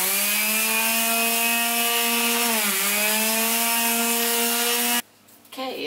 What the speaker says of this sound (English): I will come back, sand that lightly, and then go back over it again.